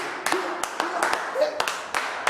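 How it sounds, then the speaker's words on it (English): Rhythmic clapping from a church congregation at a Nigerian worship service, with about seven sharp claps spaced unevenly across the moment, heard beneath an ongoing voice. "If you're a winner, I want to hear you clap, clap, clap, clap."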